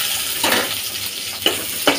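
Three dried red chilies and crushed garlic fry in hot soybean oil, giving a soft sizzle broken by a few sharp pops and clinks of a utensil against the pan.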